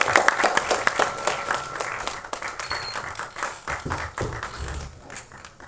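An audience at a Tamil album song screening festival claps for a guest called to the stage, a sustained burst of many hands applauding at moderate volume that gradually tapers off.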